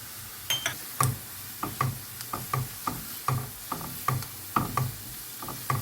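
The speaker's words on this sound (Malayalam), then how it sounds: "അത് നമ്മൾ ഒരു 2-3 മിനിറ്റ് നേരം ഒന്ന് വഴറ്റുകയാണ്." Ginger and garlic being sautéed in a pan, with a steady run of sharp scraping and stirring clicks from a spatula, about two per second, over a faint sizzle, close and fairly loud.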